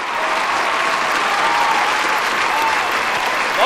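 Warm applause from a TV show studio audience, steady and dense throughout, filling the room with continuous clapping at high volume.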